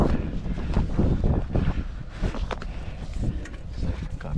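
Headwind buffets a moving truck out on the road, a steady rough rumble of gusting air with uneven surges throughout, loud and close.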